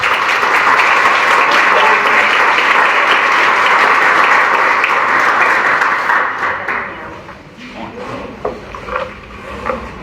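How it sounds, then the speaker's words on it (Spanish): Loud, dense applause from a large audience fills the room, then thins out into scattered claps as it fades. "lo recibimos con un fuerte aplauso."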